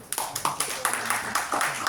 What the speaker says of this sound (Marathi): त्याबद्दल स्वतःसाठी एकदा टाळ्या वाजवा